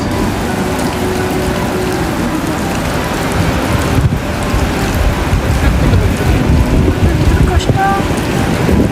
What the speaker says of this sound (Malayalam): നമുക്ക് മഴയായി.